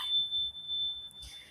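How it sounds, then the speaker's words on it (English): A healing Venus chime rings with one sustained, steady bright tone that holds through the whole moment, with a soft shimmer of overtones at the start and end. "the healing Venus chime."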